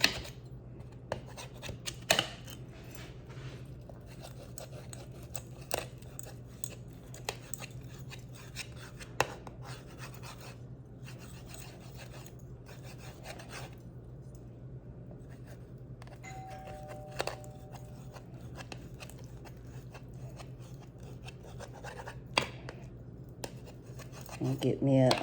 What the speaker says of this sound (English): I'm using my serrated knife